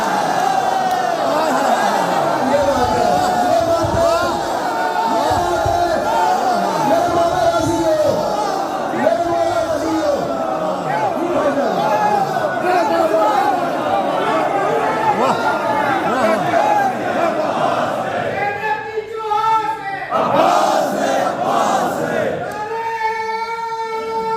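A large crowd at a religious gathering in Kuwait for the 15 Shaban celebration shouts a loud slogan, a dense roaring chant of many voices sustained throughout, with a few louder shouted calls near the end.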